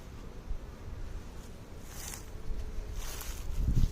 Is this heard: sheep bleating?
no